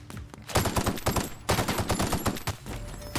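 Rapid bursts of weapon fire in The Outer Worlds video game, a dense run of loud, close shots with a short pause before a second volley; no voices are heard.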